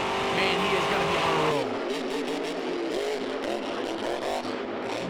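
Monster truck engine roaring through a freestyle run at a Monster Jam show in Ford Field, Detroit, loud and continuous with shifting revs over crowd noise, while a commentator talks over it.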